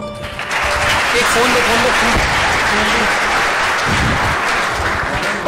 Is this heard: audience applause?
yes